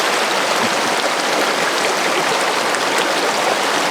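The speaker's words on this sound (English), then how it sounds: "we had to walk across fucking deep creek" Loud, steady rush of creek water flowing nearby, a continuous dense splashing babble with no voices.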